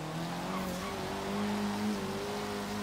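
Turbocharged Honda Civic Type R driven off-road in Forza Horizon 3, a steady engine drone with a rising pitch and tire noise, loud and continuous throughout with no talk.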